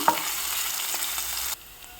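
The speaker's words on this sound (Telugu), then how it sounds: "గార్లిక్ పాడ్స్ ఫ్రై చేసుకుంటూ 3 finely chopped green chillies add చేసుకోవాలి. చిల్లీస్ కాస్త ఫ్రై అవ్వాలి." Garlic pods and finely chopped green chillies fry in a pan for a bottle gourd milk curry, giving a steady, close sizzle with light stirring that cuts off sharply near the end.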